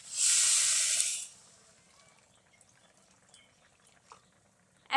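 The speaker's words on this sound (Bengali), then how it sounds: "আমাদের ভাজা কমপ্লিট, এখন আমরা পানি দিই।" Water poured into frying khichuri (rice and lentils) makes a loud, bright hiss of steam for about a second, then fades to faint crackling and bubbling in a quiet kitchen.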